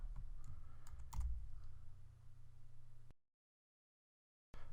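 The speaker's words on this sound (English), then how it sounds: "click Grid Reference, then type in the grid reference of the site that you want" Fingers tap out a grid reference on a computer keyboard in a short run of crisp, close key clicks, followed by silence.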